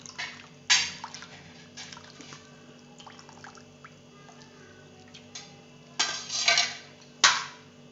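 Water drains from washed tender bamboo shoots in a kitchen, with quiet intermittent splashes, drips and clinks of a bowl or utensil, faint and close, with no talking.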